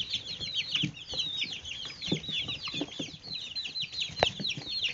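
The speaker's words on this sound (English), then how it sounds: "wanted to give everyone an idea of all of Lizzy's chickens and how they're doing" A flock of backyard chickens clucks and chatters nonstop at close range, with overlapping calls of varying loudness.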